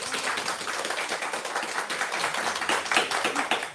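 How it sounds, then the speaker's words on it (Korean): Lecture audience clapping at an online sales seminar, a dense steady patter of many hands sustained evenly throughout, moderately loud with no talk over it. "박수!"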